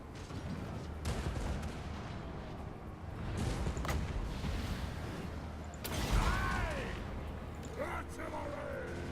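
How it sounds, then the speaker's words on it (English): Artillery fire in the Total War: Warhammer video game during a Dwarfs battle, several booming shots and sharp cracks over a dense rumbling battle din, with whooshing projectiles and a voice shouting orders. "Artillery!"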